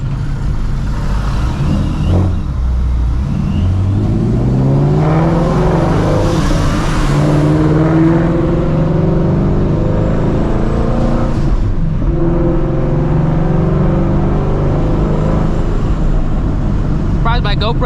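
A Dodge car pulling up on a hot day, its engine revving in loud bursts and surges, with a person talking over the motor noise.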